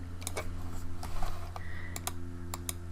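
Someone types a web address on a computer keyboard, a short burst of crisp, irregular key clicks standing out over a steady low electrical hum.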